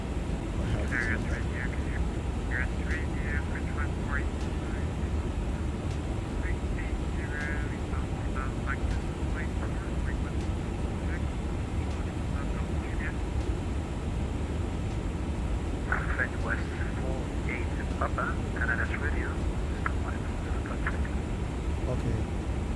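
An airliner cruising in the video game Microsoft Flight Simulator 2024 gives off a constant, even drone throughout, while short bursts of voice come and go over it.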